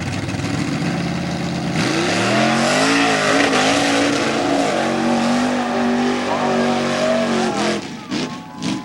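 A V8-powered mud bog vehicle races through a mud pit at a 1995 Plymouth mud bog event, its engine roaring and revving hard with rising pitch, loud and close, with crowd noise and an announcer underneath.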